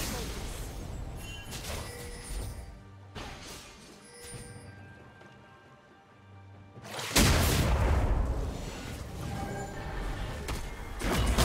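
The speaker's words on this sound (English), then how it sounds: "Blue team's turret has been destroyed." A turret is destroyed in League of Legends: after a quieter stretch, a loud crashing boom of collapse and explosion bursts in, followed by a rumbling, clattering tail of impacts and game effects.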